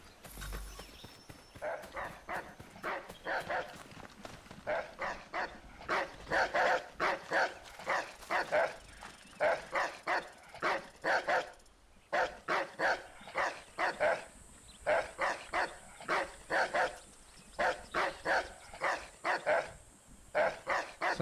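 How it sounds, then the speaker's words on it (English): A dog barking in the video game Assassin's Creed Shadows, repeated sharp barks coming in regular bursts with brief pauses, fairly close and clear, continuing throughout with no talk over it. "So I need to kill the dog."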